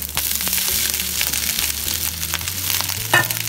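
Ingredients dropped into a hot pan of Chinese fried rice made with day-old rice, setting off a loud, steady close sizzle and crackle of frying, no one talking.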